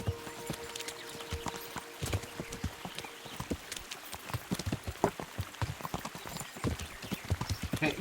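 A horse walks in Kingdom Come: Deliverance, its hooves clip-clopping in a steady, even rhythm at moderate distance. The footfalls sound fairly quiet and continuous, without talk.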